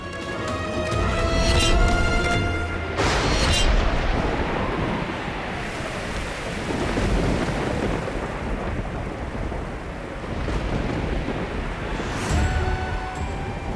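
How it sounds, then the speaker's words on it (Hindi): Heavy rain roars continuously, with deep rumbles and loud crashes of thunder rolling in and out over the steady downpour. "भयंकर बारिश होने लगी है।"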